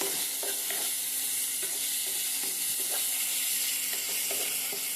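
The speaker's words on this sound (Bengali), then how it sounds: "কালো জিরা সমেত চিংড়িটা ভাজা হবে, আর দেবো পেঁয়াজ কুচনো আর লঙ্কা ফাটিয়ে একসঙ্গে ভাজা হবে" Shrimp frying in white oil with black cumin, chopped onion and chillies, a steady loud sizzle broken by scraping stirs of the spatula against the pan, close up with no voices.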